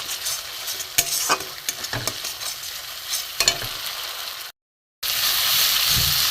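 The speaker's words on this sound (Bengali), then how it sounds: "এখানে এটা একটু কষা হোক, তেল ছাড়লে তারপরে জল দেব। মশলাটা ভালো করে কষা হোক।" Spiced masala for a fish-roe omelette curry fries in oil while a spoon stirs and scrapes the pan, giving a steady sizzle with irregular scraping strokes, a brief silent gap, then louder continuous frying.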